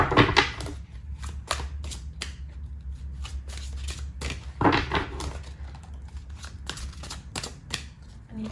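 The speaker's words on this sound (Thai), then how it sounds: "เราจะมา สับไพ่แล้วก็ เลือกไพ่กันสดๆเลยนะคะ" Tarot cards shuffled by hand in a series of quick, crisp riffling bursts that repeat irregularly, close and fairly loud, with no talk.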